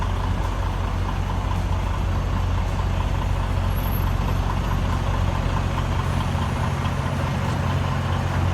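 Heavy truck engine rumbling steadily nearby as it reverses slowly during CDL test practice, a continuous low drone with faint high hiss and no voices.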